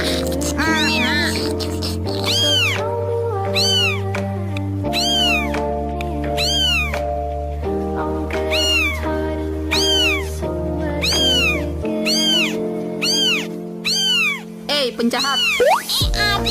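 Cartoonish cat meows from the video game Sakura School Simulator repeat in quick, high-pitched bursts over a steady, droning game music bed, close and fairly loud throughout.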